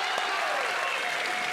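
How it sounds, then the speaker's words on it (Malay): A brief burst of dense audience applause at a political debate in Malaysia, steady and close throughout. "Apa kata kita berikan tepukan kepada kedua-dua YB yang hadir ini?"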